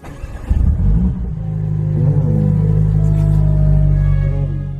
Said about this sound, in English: can we start the car?